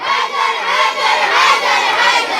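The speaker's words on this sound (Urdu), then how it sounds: "بلند آواز سے 4 مرتبہ نعرے کے جواب میں کہیں گے حیدر حیدر حیدر حیدر" A large crowd of madrasa students and listeners at a religious gathering shouts 'Haider' in loud unison, the massed voices swelling in repeated waves, close and forceful.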